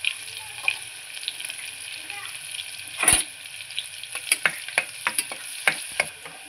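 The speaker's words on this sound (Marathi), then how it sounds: "आता तेल गरम झाल्याच्या नंतर इथे एक कांदा कापून टाकत आहे" Sliced onion fries in hot oil for a mutton rassa, giving a steady low sizzle. Near the middle there is one loud metallic clank, and then a run of ladle scrapes and clicks against the pan.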